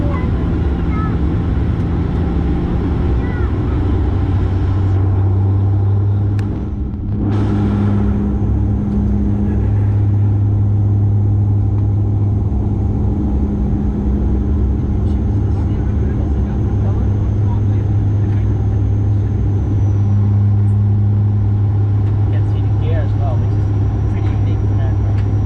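An Air Canada Dash 8 Q400 turboprop lined up on the runway sounds as a loud, steady droning engine roar heard from inside the cabin, with pitch shifts and a sustained tonal hum throughout.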